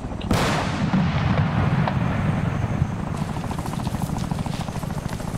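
Cannon fire from a BMP armored vehicle in the Arma 3 video game: a sharp loud blast near the start, then sustained rumbling roar with rapid rattling bursts continuing throughout, loud and close.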